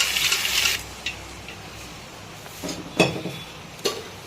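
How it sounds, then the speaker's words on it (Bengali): Boiled green peas tip into a pan of potatoes and spices with a soft scraping rush, then a few light scattered clinks and taps of metal on the pan. "এখানে আমরা দিয়ে দিচ্ছি সেদ্ধ করে রাখা মটর"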